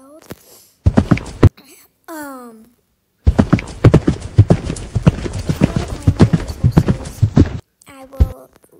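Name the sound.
horse hooves clip-clop in video game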